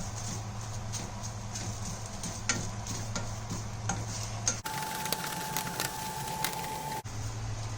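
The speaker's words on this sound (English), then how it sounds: "This you can put on high flame and keep stirring this continuously." Dried curry leaves stirred continuously in a hot pan over a high flame, giving a steady dry rustling and scraping with faint sizzle and occasional light taps of the spoon, fairly quiet and close, no talking.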